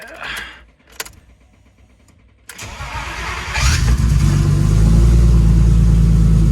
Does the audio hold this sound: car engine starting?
yes